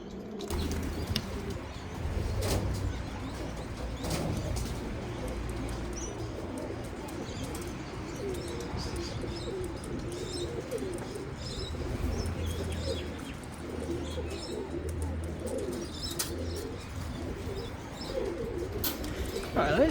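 Racing pigeons back at the loft after a 256 km race coo and murmur in a steady low chorus, with soft chirps and occasional wing flutters and faint background noise, continuous throughout.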